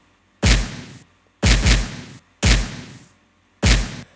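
A layered stereo kick and stump kick sample hit together four times at an even pace, each strike a loud, full thump with a short decaying tail, heard on its own.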